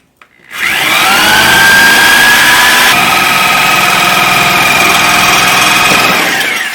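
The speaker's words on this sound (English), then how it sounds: "I was using the Sawzall to cut the nails right here on both sides." Sawzall reciprocating saw cutting through nails holding an electrical gang box to a 2x4, a loud steady whine that starts abruptly and runs continuously for several seconds with no talk.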